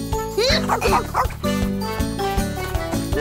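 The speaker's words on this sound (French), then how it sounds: "Bon chien, Zim." A small cartoon dog yips and barks in quick bursts over bright tinkling background music, with a whimpering edge to some calls.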